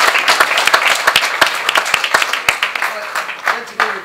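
An audience at a political meeting on Labour and Brexit breaks into applause, a dense run of claps lasting a few seconds that thins out toward the end, with no voices over it.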